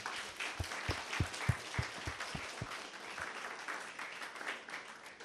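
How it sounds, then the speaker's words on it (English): Audience applause for Gary Spanovich and Claudia Leila Alamin, a steady wash of many hands clapping at a peace event, with a few louder nearby claps standing out at the start. "Let's give them a big round of applause."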